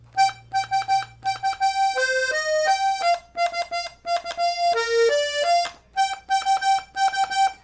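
A 32-bass accordion plays a lively melody of short, detached notes, with a brief gap breaking the flow partway through the phrase.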